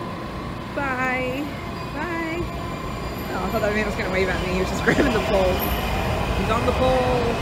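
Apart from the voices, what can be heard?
subway train leaving the station in Washington DC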